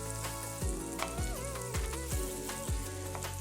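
Onions sizzle steadily in a frying pan, a soft continuous crackle that sits under louder background music with regular deep bass hits.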